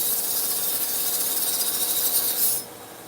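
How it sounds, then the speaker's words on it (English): A knife edge is drawn edge-trailing across a sharpening stone to raise a burr, making a steady close rasping scrape for a few seconds before it stops. "I want to make sure I just bring up a burr on the back side. I'm going edge trailing."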